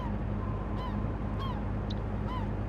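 Bird calls in the Fishing Planet video game ocean setting, several brief honking, goose-like cries at intervals over a steady low rumble of boat engine and water, moderately distant.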